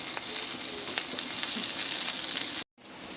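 Chopped ginger and green chilli fry in oil in a pan while being stirred, for a pumpkin-leaf dish. A close, steady bright sizzle runs throughout and cuts out abruptly near the end before resuming faintly.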